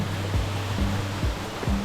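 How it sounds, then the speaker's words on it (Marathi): Clear spring water from the mountains streams and splashes in a forest near caves, giving a steady close rush with rhythmic gurgling pulses about every half second. "इथं एकदम डोंगरातून येणारं स्वच्छ सुंदर असं पाणी येतंय"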